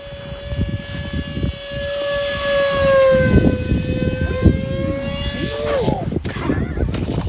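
A BlitzRC Works F-18 Hornet 50mm electric ducted fan RC jet flies past, its high whine sweeping up and down in pitch as it passes nearby, under wind noise and a man's speech.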